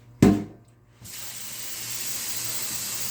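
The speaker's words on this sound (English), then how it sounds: "let me put some water in here." Tap water spraying and hissing steadily into a pot of peanuts, loud and continuous after a brief initial burst, with no talk.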